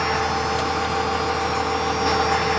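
A 1997 Dodge Ram 3500's 5.9 Cummins 12-valve turbo diesel engine idles close by, a continuous low rumble with an even mechanical drone and no voices.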